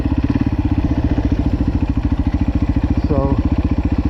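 A YZ450F-class 450cc dirt bike engine lugging at low revs in second gear, with a loud, close, steady thumping pulse and a brief clatter partway through.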